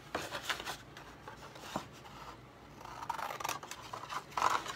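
Scissors snip through paper for a lap book journal cover, a quiet series of short crisp cuts and rustles in an uneven rhythm, close up with no talk.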